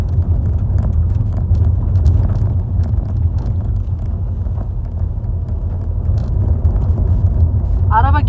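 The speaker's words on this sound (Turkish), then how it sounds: "Araba geliyor. Yol tek kişilik." A car approaching on a narrow single-lane road, its steady low rumble of engine and tyres holding close and loud throughout, mixed with wind buffeting the microphone.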